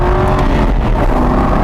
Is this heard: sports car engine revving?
yes